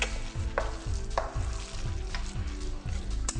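Lentil, walnut and veggie burger ingredients get stirred and mashed together in a bowl, making steady, repeated squelching and scraping strokes close up with no voices.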